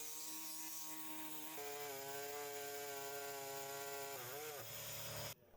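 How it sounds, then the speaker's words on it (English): A power saw cuts through the driveshaft carrier of a Nissan 300ZX, a close, loud buzzing whine with steady harmonics that drops in pitch partway through, dips briefly near the end, then cuts off abruptly. "Make a cut on each side of the carrier."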